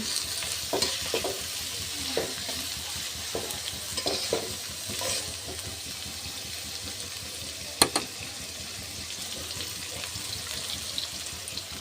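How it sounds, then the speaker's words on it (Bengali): Oil hisses and sizzles steadily as chopped onions fry in a wok, with occasional stirring scrapes and one sharp clank, continuous and close with no talking. "কড়াইতে তেল দিয়ে পেঁয়াজ কুচি দিয়ে দিয়েছি"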